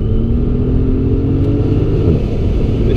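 Mercedes-AMG S65 driven around a figure-eight course, its engine a loud sustained rumble with steady low drone and rising harmonic tones as it accelerates, close and continuous with no speech.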